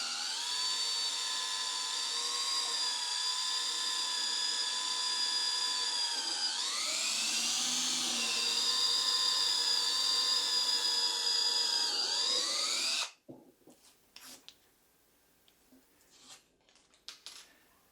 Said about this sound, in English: Line up your mark with your drill and drill through.